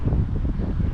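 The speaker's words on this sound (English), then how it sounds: "it's getting windy out" Wind gusting outdoors, buffeting the microphone in a steady low rumble throughout, with no voices.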